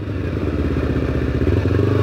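A motorcycle engine runs continuously while riding, a loud, close, throbbing mid-pitched drone with slight rhythmic pulsing and a small rise toward the end, with no talking over it.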